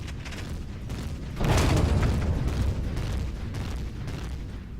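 Enemy turret fire in the space-survival game Empyrion: Galactic Survival during a ComCenter assault, a heavy booming blast rising at about 1.4 seconds over a constant mechanical rumble, then holding as a dense roar before easing slightly.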